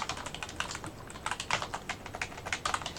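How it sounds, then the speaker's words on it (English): Rapid, irregular keystrokes on a computer keyboard, close and clear, with a steady clatter of key presses and no voices. "I should type status."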